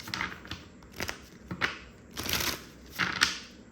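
Tarot cards are handled and shuffled in quick riffling bursts, four or five soft papery flurries spaced about a second apart, close and moderately quiet with no talking.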